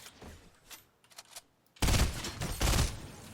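A burst of rapid gunfire in a shooter video game erupts suddenly and loudly after a quieter stretch of faint shots and game noise, continuing as sustained sharp reports.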